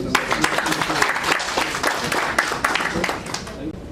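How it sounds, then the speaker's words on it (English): An indoor audience at a corporate presentation on third-party risk management claps for a speaker. The applause is dense, steady and fairly loud throughout, fading slightly at the very end. "can we have a heartfelt round of applause for sir again?"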